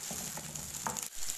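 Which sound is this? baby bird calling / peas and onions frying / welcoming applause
peas and onions frying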